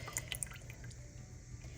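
Warm water and cultured milk poured into bread dough ingredients for a Mennonite loaf, with a few bright drips and splashes early, then a low, steady trickling pour nearby.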